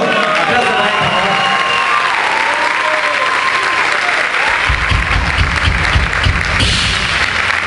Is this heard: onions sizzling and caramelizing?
no